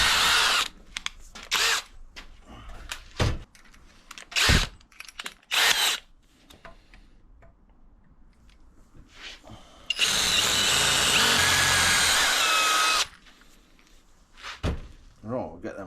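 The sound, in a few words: power drill drilling holes in bracket side pieces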